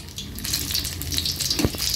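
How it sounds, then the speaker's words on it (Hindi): Batter-dipped stuffed chillies sizzle and hiss steadily in hot oil, a close, continuous frying crackle with a brief bubbling burst near the end. "देखिए मिर्चियों को लाइट गोल्डन ब्राउन हुए तक अब हम फ्राई कर लेंगे।"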